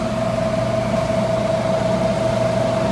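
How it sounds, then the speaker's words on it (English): Fan units hum steadily inside a two-door Traulsen refrigerator running warm, with its compressor barely active; a constant close motor drone holds one even tone throughout, with no voices. "Fan units running. The compressor doesn't sound very active"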